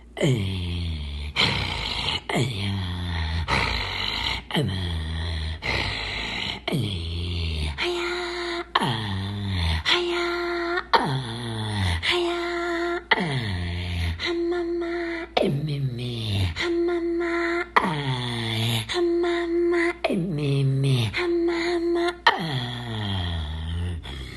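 A person rhythmically imitates reindeer breathing in a northern minority vocal tradition, with repeated low, throaty grunting exhalations and inhalations, a steady panting pattern sustained for a long stretch.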